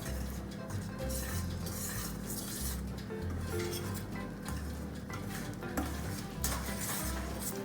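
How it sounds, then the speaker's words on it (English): Whole wheat mango cake batter gently stirred in a bowl, giving soft repeated scraping and sloshing strokes in a steady rhythm with light utensil clinks, close and continuous. "We don't have to over mix the batter, we have to just give it a gentle stir."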